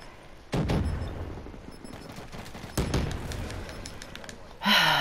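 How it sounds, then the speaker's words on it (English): Shotgun blasts in Call of Duty Black Ops III, two heavy booming shots a couple of seconds apart over quieter game noise, ending in a sharp burst of effects. "Being shot at with a freaking shotgun"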